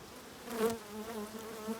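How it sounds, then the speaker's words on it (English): Honeybees in an open beehive full of capped brood give a soft, continuous hum, fairly quiet and close, with a slight swell midway. "You notice the bees are generally fairly quiet and not running around."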